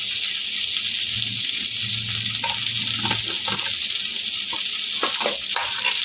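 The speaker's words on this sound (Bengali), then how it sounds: "একটু ভালো করে ভেজে নেব" A pan sizzles steadily as oil fries for a kolmi greens dish, while a spoon stirs and scrapes against the metal and cumin powder goes in.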